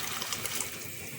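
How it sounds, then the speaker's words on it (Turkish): Hot water pours into a cooking pot in a steady, close trickling splash that runs without a break for about a second. "Sıcak suyumu ilave ettim."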